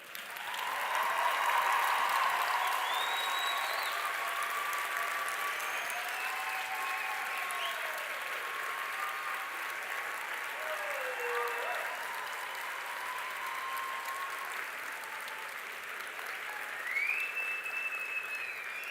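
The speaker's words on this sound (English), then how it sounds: "pay tribute to your loved ones and their support that they provided to you with a hearty round of applause" A large graduation audience gives a hearty, sustained round of applause for loved ones in a ceremony hall, dense clapping filling the room throughout, with scattered cheers and whoops rising over it.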